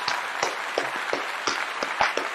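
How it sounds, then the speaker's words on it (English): Studio audience clapping at the opening of a talk show, a steady wash of applause across the whole moment with a few sharper claps standing out, no voices over it. "Let's clap it up for the one time"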